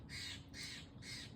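A crow-like bird gives three evenly spaced harsh caws, faint and distant in a quiet forest.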